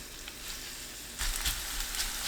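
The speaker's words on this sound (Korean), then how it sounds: "중불로 낮추고 반죽을 올려주세요." Radish pancake batter goes into a preheated, oiled frying pan over medium heat and gives a soft sizzle that rises sharply partway through and stays at a gentle crackle.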